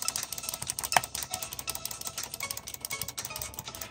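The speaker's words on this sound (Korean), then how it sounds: "마우스와 키보드 소리를 동시에 내보도록 하겠습니다." A computer keyboard is typed on while a mouse clicks at the same time, giving quick, steady rows of close clacks, with music playing faintly in the background and no talk.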